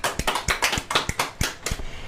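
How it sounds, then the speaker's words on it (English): Sparse clapping from a small audience at a quiz, about eight distinct claps in an uneven rhythm, close and fairly loud with no talk over them. "Please clap for her."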